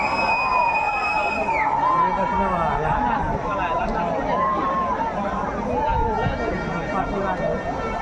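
A steady horn blares at the close of a regatta boat race in Mukah, Sarawak. It holds for under two seconds and then cuts off, under constant crowd noise and a voice talking over a loudspeaker.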